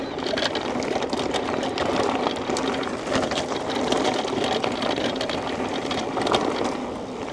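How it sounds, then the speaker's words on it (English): Freewheel of the crank arm and chainring on an Aventon Ramblas electric mountain bike, a steady fast ticking whir with a rattly edge that runs continuously and close throughout, with no talk. "It's actually from the freewheel that attaches the crank arm and the chainring."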